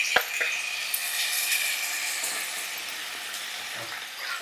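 Tomatoes fry in a masala pan with a steady, close, crackling sizzle throughout, opening with a sharp click of a spoon or spatula and a few faint stirring scrapes, and no talking.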